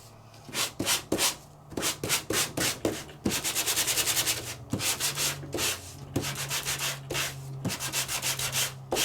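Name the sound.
sanding around embossed paper from an embossing folder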